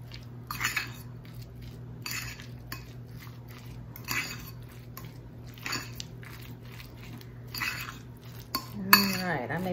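A spoon works canned chicken and mayonnaise together in a bowl. Soft, quiet clinks and squishy scrapes repeat at a slow, uneven pace over a low steady hum, close by and faint, with no talking.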